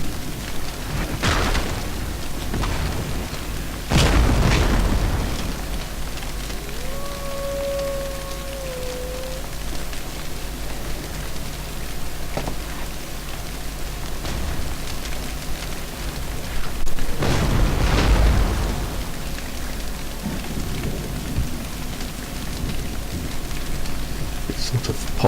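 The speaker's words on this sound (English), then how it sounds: "you can see my artillery starts firing" An artillery battery fires in a strategy game of the Siege of Warsaw 1704, with a few deep booming cannon shots spaced several seconds apart over a steady rain-like ambient hiss.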